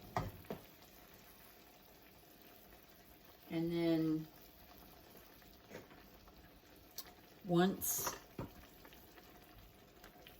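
Risotto liquid with orange and fennel bubbles quietly in a pot, a faint, steady simmering hiss that runs under two brief bursts of talk.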